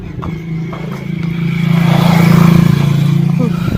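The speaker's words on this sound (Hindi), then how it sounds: "मैंने सोचा बाइक चली जाए।" Motorbike riding along a village road, its engine a steady close drone that swells and holds with a rough throbbing edge, with a voice talking over it.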